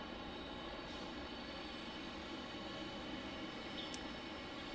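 A Delta Boeing 757 jet arrives at an airport. Its engine makes a faint, steady, distant roar that stays even throughout, with no voices.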